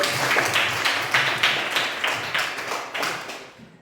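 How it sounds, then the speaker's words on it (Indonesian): A classroom of children claps hands together, a lively burst of applause with a few stronger rhythmic accents that gradually thins and fades away toward the end. "Mantap, tepuk tangan."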